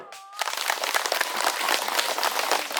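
Audience applause at a village election draw in Kadu Eta, Sumba, a brief silence and then a burst of dense clapping from a gathered crowd that stays lively and uneven to the end.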